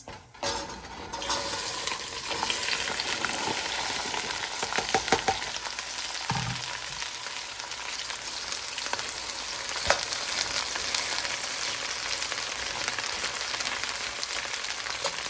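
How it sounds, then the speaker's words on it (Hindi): Okra (bhindi) fries in a pan with a steady, moderately loud crackling sizzle that goes on throughout, with a few utensil clicks and stirs. "अभी मैं भिंडी फ्राई कर रही हूँ"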